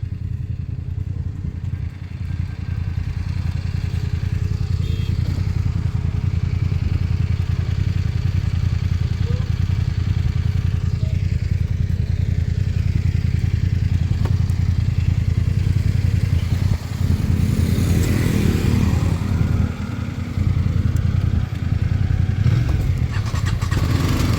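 A motorcycle on a road ride along the coast toward Poovar Island in Kerala, its engine droning steadily and close for the whole stretch under rushing wind, with a little voice noise mixed in.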